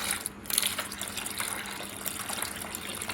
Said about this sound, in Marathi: तर आता मी अलगदपणे हे वरचं पाणी काढून घेत आहे